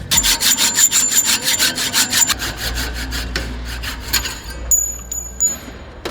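A hand saw cuts through a bike frame tube clamped in a gauge. Rapid, loud back-and-forth rasping strokes come first, then slower scraping strokes with a bright metallic ring.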